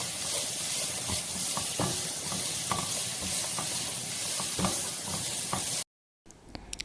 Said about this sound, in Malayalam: 1/4 കപ്പ് കൊച്ചുള്ളി ചെറുതായി അരിഞ്ഞതും 1 സവോള ചെറുതായി അരിഞ്ഞതും കുറച്ച് കറിവേപ്പില ഇട്ട് നന്നായി വഴറ്റിയെടുക്കുക